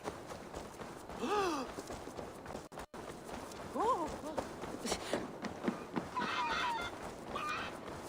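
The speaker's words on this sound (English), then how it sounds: "Someone get that drunk away from the chickens!" Chickens clucking and squawking in Assassin's Creed Valhalla, several short rising-falling calls in bursts mixed with ambient game noise and a voice speaking.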